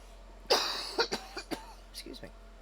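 A single sharp cough followed by a few smaller coughs and throat-clearing bursts, close and fairly quiet, in a calm indoor setting.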